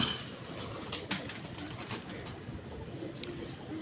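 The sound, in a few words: pigeons cooing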